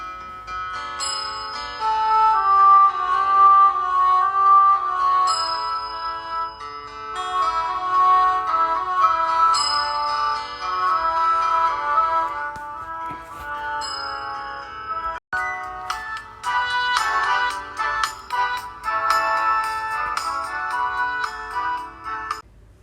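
Theme tune from the M*A*S*H TV show played on a bright, chiming electronic bell-like melody, steady tonal notes over a low hum, a short break near the middle before a denser, busier passage.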